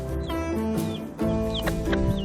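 A hen clucks in a farmyard with chicks around. Several short throaty clucks and rising squawks come in uneven bursts, close and clear over a low background rumble.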